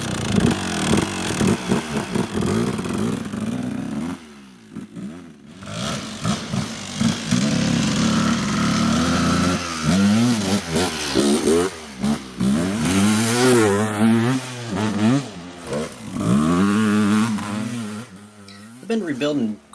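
A Kawasaki KDX200 dirt bike on a test ride after restoration, its two-stroke engine revving up and down in repeated rising and falling sweeps, loud and close for most of the run with brief lulls between bursts.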